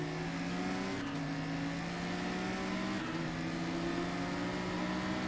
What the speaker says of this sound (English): Just hear the cars behind me right now, just desperately trying to pull ahead.